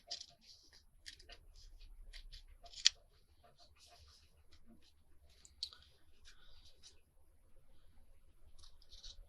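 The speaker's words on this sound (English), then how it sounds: "So let's trim the ends and get it all trimmed up" Scissors trim the ribbon ends of a ribbon-and-lace belly band, faint scattered snips and light clicks close by in a quiet room.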